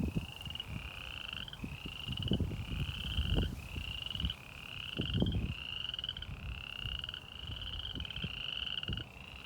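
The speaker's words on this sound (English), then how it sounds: "the males make this noise and it impresses the females" Male spring peeper frogs call to attract females, giving about ten clear, high, piercing peeps in a regular rhythm, one roughly every second, over low rustling and soft thumps nearby.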